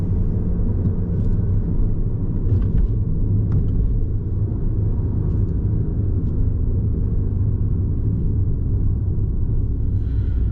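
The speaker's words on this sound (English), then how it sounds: "Little blip of the throttle when it changes down into second as well." A 2020 Peugeot GT Line with an EAT8 automatic gearbox drives along a road. From inside the cabin, a steady loud low rumble of engine and tyres runs unbroken throughout.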